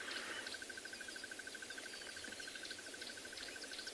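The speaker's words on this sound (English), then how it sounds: "You hear the birds going mad this morning." Birds call continuously in the bush on a South African morning, with a steady repeated piping note and scattered chirps over a soft background, no voices.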